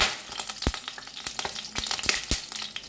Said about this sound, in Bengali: ফোড়নটাকে একটু ভাজা ভাজা করে নিতে হবে